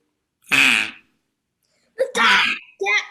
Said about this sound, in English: He has a duck call.